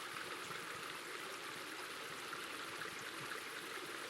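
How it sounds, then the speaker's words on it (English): A waterfall in the video game Eastshade gives a steady, unbroken rush of falling water, faint and distant, with no voices over it. "And then down here, there's a waterfall."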